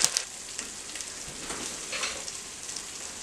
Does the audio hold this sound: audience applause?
no